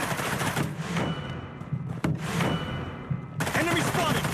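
Rapid automatic gunfire from the BloodStrike battle royale video game, bursts of sustained fire with a brief pause mid-clip, loud and close, mixed with game effects throughout.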